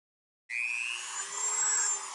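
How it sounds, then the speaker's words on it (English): A Dremel rotary tool spins a drill bit for engraving a bullet casing, starting abruptly with a steady high-pitched whine that holds loud and close, with a faint lower hum underneath. "take some kind of Dremel tool right here, and that spins this drill bit"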